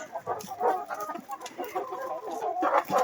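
A rooster and hens cluck and murmur close by in a quick, busy run of calls, with no talking.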